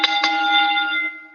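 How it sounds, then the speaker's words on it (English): A single bell is struck twice in quick succession to close a show, its bright ringing tone sustaining and slowly decaying on its own. "Ring that bell."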